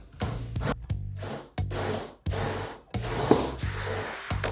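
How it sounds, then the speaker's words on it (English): A portable benchtop drill press bores into wood in several short bursts, the motor whirring up and biting into the material, with brief pauses between each pass. "Here's my portable drill press from Rockler. First time trying it out. I'm gonna go ahead and drill."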